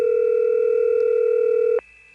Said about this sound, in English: this ringtone was invented before T-Carrier came out